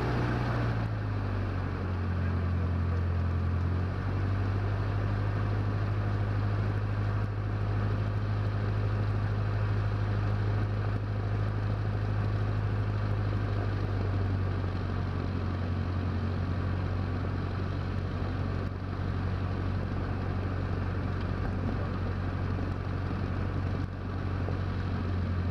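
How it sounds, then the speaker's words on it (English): A light aircraft engine drones steadily during an engine test while taxiing toward a runway holding point at Kunovice airport, a loud continuous tone that shifts pitch once early and holds for the rest, with no voices. "We need 1 more minute for an engine test."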